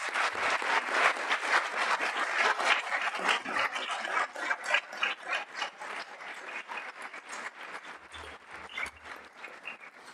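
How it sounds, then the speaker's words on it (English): Steady applause from a school board meeting audience honoring long-serving teachers, many hands clapping continuously at moderate volume for about ten seconds, tapering slightly near the end. "Let's give them all a round of applause."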